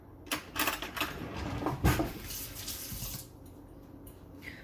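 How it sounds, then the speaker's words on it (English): Water in a kitchen pot with white vinegar, swirled in preparation for poaching an egg: a close sloshing, splashing wash that swells for about three seconds and then fades to a quieter trickle, with no speech. "the trick to poaching an egg is that you gotta swirl the water"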